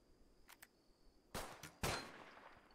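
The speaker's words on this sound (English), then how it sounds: "Oh, they started. They're gonna start shooting." Gunfire in the video game Rimworld: a couple of quick faint shots followed by two louder sharp bursts with ringing tails, close and without talk.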